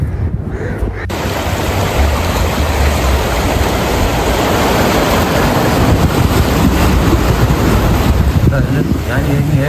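Continuous roar of sea waves at Perumathura, Muthalapozhi, with heavy wind buffeting the microphone, loud and close throughout.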